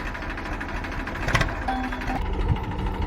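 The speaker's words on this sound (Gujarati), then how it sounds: "બાપા ટ્રેક્ટર ઉપર ચડી ગયા છે" A tractor engine idles steadily with a low, continuous rumble and some rattling vibration, close by, without talking.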